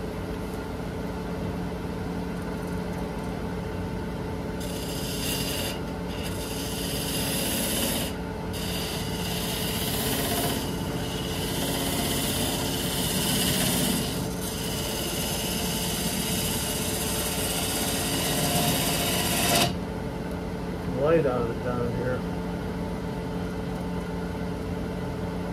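A wood lathe spins an off-center workpiece at about 950 RPM with a steady motor hum, while a tool rubs and rasps against the wood in sustained scraping passes that end near twenty seconds.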